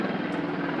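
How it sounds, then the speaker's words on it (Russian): A small black-and-white police helicopter patrols over the hills near Griffith Observatory, its engine and rotor giving a steady, continuous drone with no talk. "Это вертолеты патрулируют."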